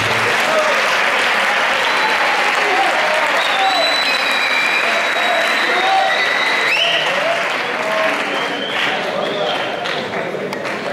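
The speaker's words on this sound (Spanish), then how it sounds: "Un aplauso para ellos." A conference audience applauds presenters at a technical symposium, dense sustained clapping from a full hall lasting throughout, loud and steady with a few voices mixed in beneath it.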